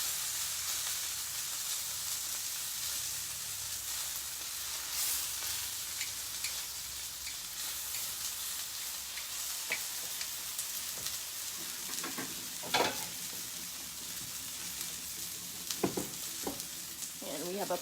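Flour-dredged chicken pieces for chicken piccata frying in a pan, a continuous crackling sizzle with scattered pops and a few utensil clinks, some faint voices in the background.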